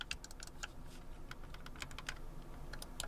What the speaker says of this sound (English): one difference is it does have clicky buttons.